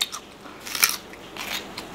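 Close, crisp crunching bites and chewing come from someone eating spicy Thai papaya salad with Ubon pork sausage. Several sharp bites and wet chews fill two seconds with no talking.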